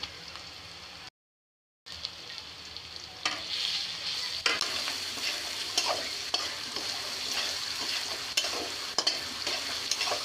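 Fried onions with garlic paste sizzling in oil in a wok, a steady close hiss broken by a brief silence, then repeated sharp scrapes of stirring.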